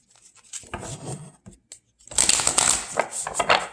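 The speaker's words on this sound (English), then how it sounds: "the cards need to be shuffled some more" Tarot cards riffled and shuffled in a few bursts, with a brief pause, then a longer, louder run of crisp flicking close by.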